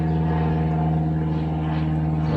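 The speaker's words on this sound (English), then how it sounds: "Same white Cessna that's been buzzing around here all morning." A white Cessna light airplane drones overhead with a steady, loud propeller-engine hum that holds constant throughout, with no voices.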